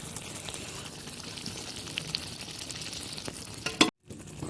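Hot ghee tadka for saag sizzles steadily in a pan, a faint, continuous crackle with small pops, ending in a sharp clatter and brief silence before the sizzle resumes.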